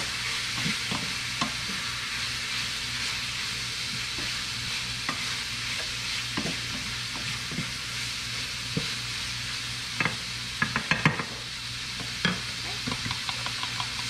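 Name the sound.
stirring shepherd's pie filling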